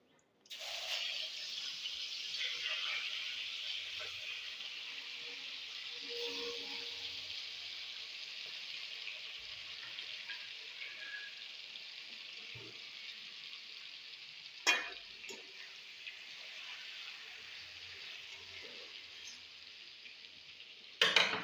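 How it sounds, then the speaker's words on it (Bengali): Pieces of boal fish fry in oil in a wok with a soft, continuous sizzle that stays even throughout, broken by a couple of brief utensil clinks. "এখন বাকি মাছগুলো দিয়ে দিলাম"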